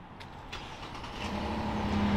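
A Chevrolet Colorado ZR2 Bison engine starts by remote start, a low rumble that builds and settles into a steady idle with a faint hum. No one talks.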